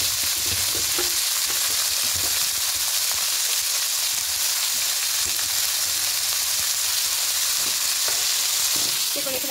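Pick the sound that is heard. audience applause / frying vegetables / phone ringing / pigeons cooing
frying vegetables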